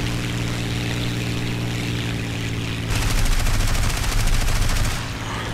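Aircraft guns fire in the flight combat game War Thunder, a steady engine drone joined midway by a loud, rapid rattling burst of gunfire lasting about two seconds before the drone carries on alone.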